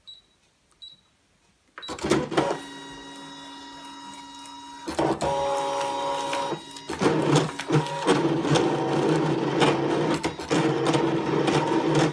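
A Brother ScanNCut machine cutting stencil material starts up after a quiet moment, then whirs and buzzes with a motorised, printer-like drone that shifts pitch as the carriage moves in stages, loud and close, with no voices.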